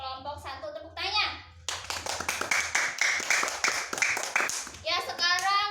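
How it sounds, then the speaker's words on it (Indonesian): Primary school pupils in a classroom clap in a quick, loud, rhythmic burst of hand claps, with children's voices chanting before and after the clapping. "Tepuk tangan."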